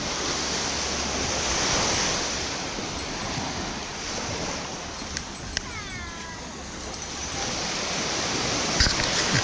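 Sea waves wash onto the shore at Lian, Batangas in a broad, steady roar mixed with wind buffeting the microphone, while someone talks over it.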